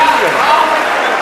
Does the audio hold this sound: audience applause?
yes